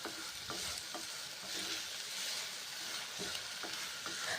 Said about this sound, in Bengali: মুগের ডাল মশলার সঙ্গে এখন কষে নিচ্ছি